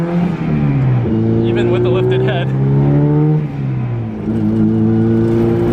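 A Nissan S15 with a stroker 2JZ engine revs loudly up and down close by, a strong rising and falling engine tone over a constant rumble, with someone talking over it.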